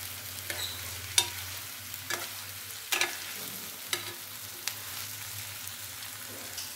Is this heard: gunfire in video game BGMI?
no